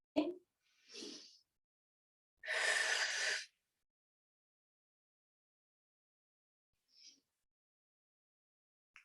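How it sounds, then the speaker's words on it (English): A deep breath drawn in during a medical yoga therapy session for fibromyalgia, standing in mountain position: a couple of short breaths, then one long, airy inhale of about a second, followed by quiet with a faint breath near the end. "Take a deep breath in."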